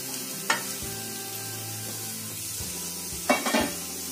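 Cabbage and carrot, with capsicum, frying in a pan for momos, a low steady sizzle with a couple of sharp utensil scrapes and clinks as the vegetables are stirred.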